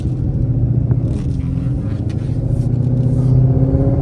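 A car with a Coyote V8 engine and a 10-speed transmission cruises on a road test drive, its low engine rumble steady and loud from inside the cabin, swelling slightly toward the end.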